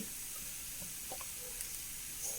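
Grated coconut roasting in a pan for onion sambar gives a soft, steady sizzle, faint and close with a few small crackles and no voices.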